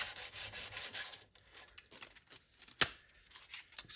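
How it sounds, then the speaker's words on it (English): A knife blade is hand sanded with rhythmic, scratchy back-and-forth rubbing strokes, close and fairly faint, with a sharp click midway before the strokes resume. "You'll always have to hand sand."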